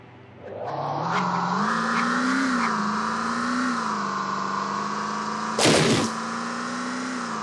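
A car engine in the zombie survival game VEIN, a steady mid-pitched drone that revs up early and holds a rising, even tone throughout, with a brief louder burst near the end.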